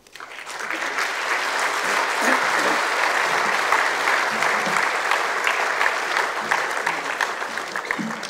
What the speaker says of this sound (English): So big round of applause again for Chairman Darshak.